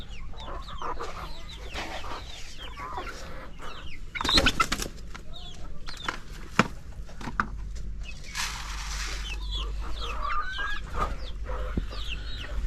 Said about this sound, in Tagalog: Ayan, may mga manok natin.